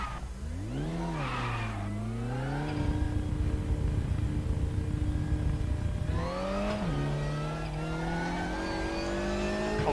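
An Opel Astra TC race car in RaceRoom spins its front wheels on cold tyres. The engine wails up and down through two long revving pushes, loud and close, with no talk.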